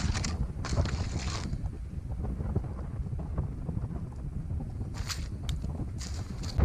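Gusty wind on Grand Lake buffets the microphone in a steady low rumble, with occasional hissing bursts of higher noise, outdoors and continuous.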